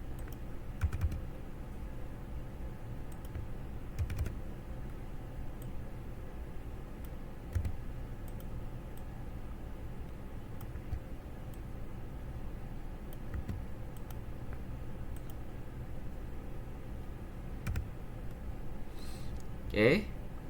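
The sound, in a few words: typing on computer keyboard to copy, delete and paste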